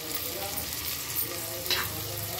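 Green chilies, onions, ginger and garlic fry in oil with a steady, dense sizzle and a brief stirring scrape partway through, close and continuous without speech.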